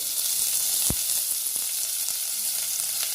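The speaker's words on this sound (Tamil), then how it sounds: "பொரிஞ்ச உடனே கொஞ்சம் வெங்காயம், கொஞ்சமாக வெங்காயம் சேர்த்தா போதும்," Onions frying in hot oil in a home kitchen while making tomato rice give a steady, loud, close sizzle with a crackling hiss throughout and one sharp knock near the start.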